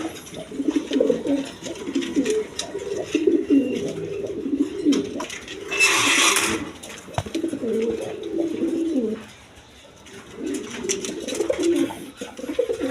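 A pair of racer pigeons kept for sale coo close by in repeated throaty phrases, the calls rolling on through most of the stretch with one brief lull.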